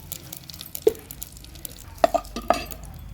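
Whole chillies temper in hot oil for a village-style tomato rasam: a low, quiet sizzle broken by a few sparse, sharp spluttering pops.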